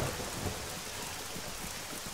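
Steady, dense rain with a low thunder rumble from a thunderstorm in the video game Arma 3, loud and continuous with no voices over it.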